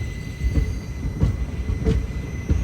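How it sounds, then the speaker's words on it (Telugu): A train stands at a station, its carriages giving off a low steady rumble broken by soft periodic clunks and knocks, with no talk. "మన ట్రైన్కి ఇంకా సిగ్నల్ వచ్చేస్తుంది, బయలుదేరిపోతాం"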